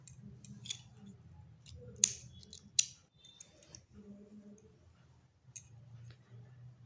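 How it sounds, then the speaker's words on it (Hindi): Scissors cut knitting wool thread after a knot is tied on a pair of knitted ladies' sock slippers, giving two sharp snips amid soft handling noises and quiet clicks. "अब यहाँ से इस धागे को काट लेंगे आप।"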